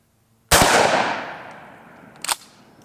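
A single loud 12-gauge blast from an 18-inch-barrel Weatherby shotgun fired at a target 20 yards away, sharp onset with a long decaying outdoor echo, followed by a fainter second crack.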